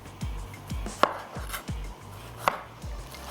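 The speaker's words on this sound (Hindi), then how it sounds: "टमाटरों को चॉप कर लेते हैं" Tomatoes chopped with a knife on a board, a series of soft, evenly spaced thuds with a few sharper knocks, close and quiet, with no talking.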